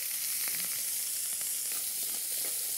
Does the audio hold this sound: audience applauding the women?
no